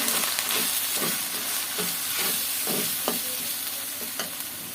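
Food sizzles steadily in a hot pan as spices and green chilies fry, while a utensil scrapes and stirs in repeated strokes, close by with no talking.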